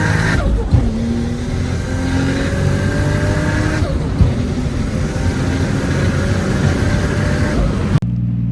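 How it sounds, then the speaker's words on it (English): A 400-horsepower right-hand-drive Toyota Supra with a turbocharged 2JZ engine on an Ecumaster standalone tune revs loud and close, rising in repeated pulls with sharp throttle blips before cutting off near the end. "You want to see a 400 horsepower Supra?"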